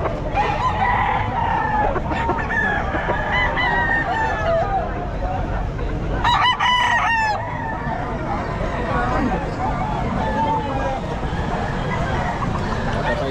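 Gamecock roosters crowing at the Bocaue pet market, several loud cock-a-doodle-doo calls and clucks from nearby birds over constant crowd babble, with someone talking throughout.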